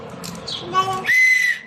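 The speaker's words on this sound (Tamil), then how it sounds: "இது கூட இது வந்து விசில்" A small toy whistle from a surprise gift box is blown once in a shrill, steady blast lasting under half a second. Brief murmuring and rustling come just before it.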